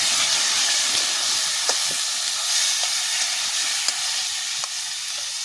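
Spices with chili powder fry in a pan with a steady, close hiss and sizzle, broken by a few faint clicks of stirring, and no one speaks.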